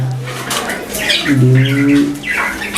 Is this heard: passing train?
no